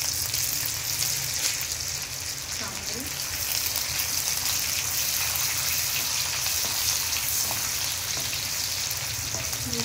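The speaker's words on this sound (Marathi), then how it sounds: "मिरच्या लालसर होईपर्यंत भाजायचा आहे" Ginger, garlic, chillies and plenty of coconut dry-roasting in a pan for a Goan crab curry, giving a steady, continuous hiss and crackle throughout with a faint voice in the background.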